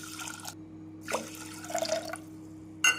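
Water poured over rice and moong dal in a pot for venpongal, a few soft splashing and trickling bursts with brief pauses and a faint steady hum behind.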